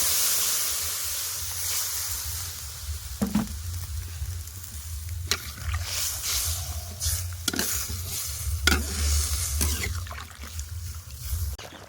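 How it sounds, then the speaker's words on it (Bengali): Steady sizzling of taro frying in a hot pan, with occasional louder scrapes and stirs breaking through the constant hiss. "এদিকে কিন্তু কচুরমুখিগুলোও ভাজা ভাজা হয়ে গেছে এবার জল ঢেলে দেব"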